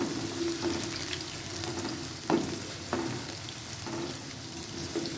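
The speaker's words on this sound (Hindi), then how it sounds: "ये हम अंडे चनों का सालन बनाने के लिए ग्रेवी तैयार कर रहे हैं" Oil sizzles steadily under a gravy for egg and chickpea curry as it fries in a pan, with a few sharp clinks of a utensil stirring against the pot.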